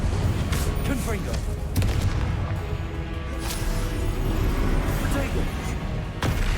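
Confringo blasting spells exploding during combat in Hogwarts Legacy, heavy booming blasts and crashes layered in a dense, loud battle mix, with a voice talking over it.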